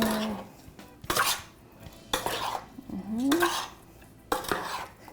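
A spoon stirs spiced fruit filling in a cooking pot for a fruit tart, with three bursts of scraping and clinking against the pot separated by quieter pauses.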